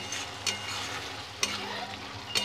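Fish curry simmering in a pan on the stove, a steady bubbling sizzle with a few sharp scrapes of stirring, close and alone with no talk.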